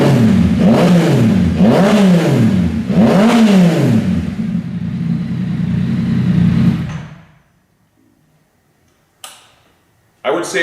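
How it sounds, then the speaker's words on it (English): A Yamaha MT-09 with an M4 full exhaust and quiet insert revs three times in rising and falling sweeps over a steady idle, then shuts off into silence, followed by a couple of brief clicks. "listen to the difference in the exhaust note"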